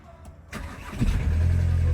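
A Volkswagen car engine, unstarted for about a week, cranks in near-freezing cold and catches after a brief pause, then settles into a loud, steady low idle.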